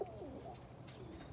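Roller pigeons in a loft give soft, low cooing. A brief warbling call comes early, followed by quieter murmurs. The sound is faint and close, over a low background hum.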